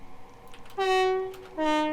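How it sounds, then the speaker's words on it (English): Two loud, clear blasts from the horn of a BR Class 377 Electrostar electric train in a train simulator, set on the Brighton Main Line: a long sustained note followed by a second, differently pitched tone. "Because no Electrostar horn sounds like that."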